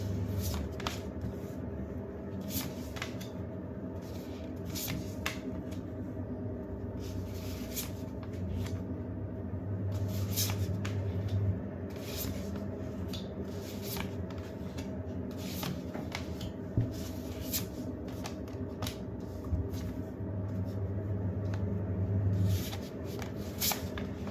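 Tarot cards being shuffled over a steady low room hum, with faint repeated riffling and tapping bursts and no one speaking.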